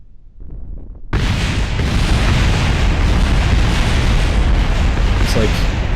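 A spaceship crashes and explodes in Kerbal Space Program, a sudden loud blast that hits after a short quiet lead-in and becomes a sustained roaring rumble of explosions and debris lasting several seconds.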